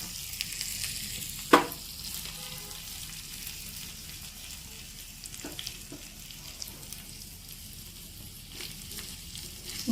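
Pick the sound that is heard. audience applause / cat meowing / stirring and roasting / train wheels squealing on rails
stirring and roasting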